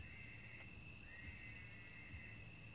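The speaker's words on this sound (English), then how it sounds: "Crickets." Faint, steady high-pitched insect trilling, like crickets at night, continuing without a break over a low background hum.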